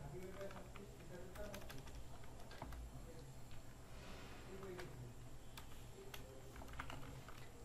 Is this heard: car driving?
no